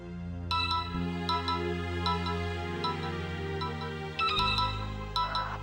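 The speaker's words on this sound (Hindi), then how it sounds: "आपका फोन।" A phone ringtone plays a repeating melodic pattern of bright tones over a sustained low backing, clear and moderately close, continuing for several seconds with no talking.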